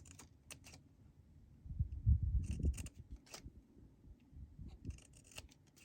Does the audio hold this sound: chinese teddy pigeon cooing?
no